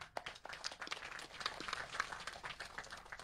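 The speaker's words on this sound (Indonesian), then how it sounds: "Tepuk tangan untuk beliau." Audience applause for the President of Indonesia at a rice harvest ceremony, a dense patter of many hands clapping steadily throughout, moderately near, with no voices over it.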